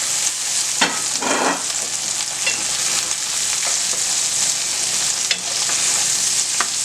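Food fries in a pan on a steady bright sizzle while being stirred, with a few scraping clicks from the utensil, all close and continuous with no talking.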